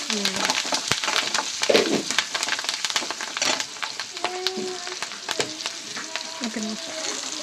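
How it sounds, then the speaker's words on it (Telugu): Green chillies frying with salt in oil for carrot roti pachadi, a steady close sizzle with stirring scrapes throughout and a voice talking over it. "కొంచెం ఇది కలర్ వచ్చేంత వరకు మనం వేయించుకోవాలండి ఆయిల్లో."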